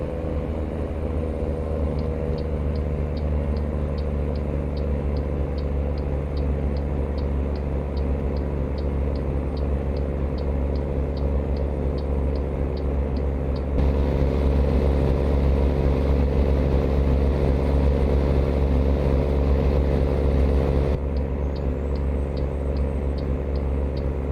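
A Lone Star truck engine in American Truck Simulator labours steadily uphill in fifth gear at low speed, a continuous deep droning rumble with a faint repeating tick, running alone without talk.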